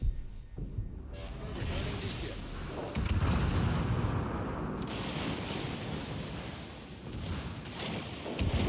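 Warship guns fire in World of Warships Legends, heavy booming salvos and a continuous rumbling roar across several seconds, with a sharp loud burst near the middle and another at the end, a voice occasionally over the din.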